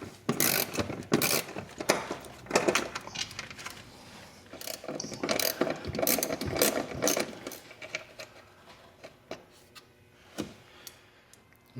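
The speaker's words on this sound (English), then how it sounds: "Again, use a 7mm socket wrench." A 7mm socket ratchet wrench loosens hood mounting bolts on a Can-Am Maverick UTV, giving repeated bursts of close, crisp pawl clicking with short pauses between strokes and no talking.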